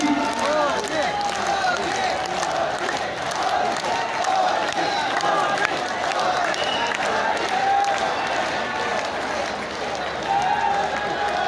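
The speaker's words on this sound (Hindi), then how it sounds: "20 बार अपने को ताली बजाकर मोदी मोदी मोदी करना है" A large political rally crowd in Barwani, Madhya Pradesh, claps together in a rehearsed welcome, with steady dense applause and crowd noise filling the whole stretch, mixed with cheering and voices.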